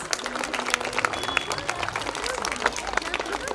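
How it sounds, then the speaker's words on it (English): At a preschool annual day celebration, an audience gives a child a round of applause, a loud, busy crowd clapping with sharp individual claps standing out, close and continuous throughout. "So encourage the children with a big round of applause."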